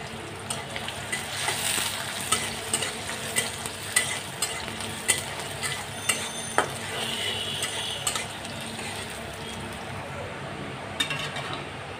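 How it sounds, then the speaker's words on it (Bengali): Chopped garlic and onion fry in a pan with a soft, steady sizzle, punctuated by occasional scrapes and taps of a stirring utensil, fairly faint and without talk. "দিয়ে সমস্ত উপকরণ আমি ভালোভাবে ব্রাউন কালার করে ভেজে নেব।"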